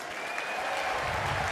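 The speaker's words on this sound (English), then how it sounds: "A big round of applause for Direct!" Steady applause from a large stadium audience at the Invictus Games 2022 closing ceremony, a dense continuous roar of clapping that stays even and loud for the whole stretch.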